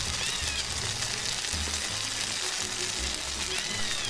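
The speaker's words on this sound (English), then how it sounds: "saute the onion." Onion sautés in a very large pan for a Filipino Valenciana dish, giving a steady, close, continuous sizzle and crackle of frying with faint low stirring bumps and no talking.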